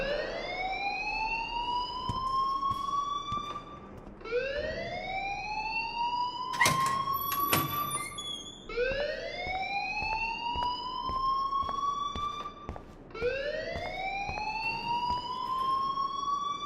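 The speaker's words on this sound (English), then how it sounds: "please turn off that alarm since that's your job" A rising, wailing electronic alarm in the video game Life is Strange repeats in four long upward sweeps, loud and steady, with a brief burst of other noise between the second and third sweeps and no talk.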